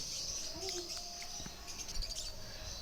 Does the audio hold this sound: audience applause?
no